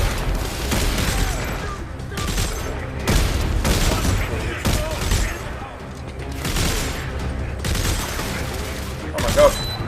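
Dense, booming weapon fire from Dead Space 3 comes in heavy rolling bursts with explosive thuds and mechanical clatter, loud and continuous, while a player's voice sits under the din.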